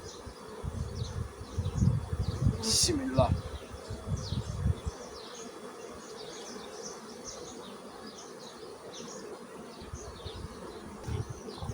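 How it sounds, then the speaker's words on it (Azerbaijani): Honeybees buzzing around a hive of drone-rearing colonies kept to raise males for mating queens, a steady close swarm drone with rising louder stretches, and a brief spoken word partway through. "Baxın dostlar, bu bizim erkək arı yetişdirən ailələrimizdir."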